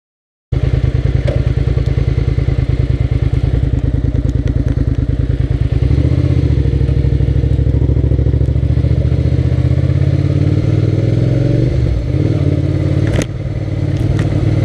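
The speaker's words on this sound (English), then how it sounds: "Blue flame exhaust and no baffles." A Suzuki SV650 motorcycle with an unbaffled exhaust runs loud and close, a rapid chattering engine note with a rising rev partway through and some clattering thumps, continuous until the end.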